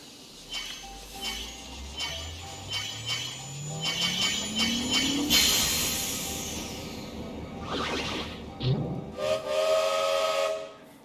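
A steam train whistle blows in the World of Final Fantasy video game, a long rising hiss-laden shriek that swells loud over rhythmic chugging, followed by a shorter second blast near the end.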